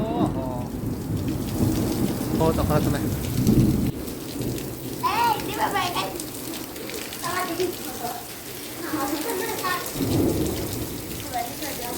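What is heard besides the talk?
heavy rain with thunder and lightning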